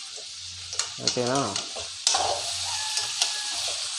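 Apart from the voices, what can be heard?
stirring frying cabbage curry in a pan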